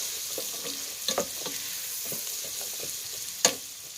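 Bacon and vegetables sizzle and fry in a pot with a steady crackle, broken by a few soft stirring clunks and one sharper knock, and no talking.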